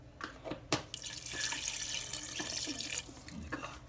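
Water pours steadily into a cooking pot for mutton karahi, starting with a few splashes and then becoming a continuous close rush before it tapers off.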